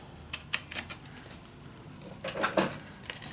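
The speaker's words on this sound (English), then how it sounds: "I'll grab my biter and cut on the edge" Paper being cut with a biter tool along the edge beside a pencil mark while making a mini album, giving a series of sharp close snips, several quick ones early and a cluster later, with no talk.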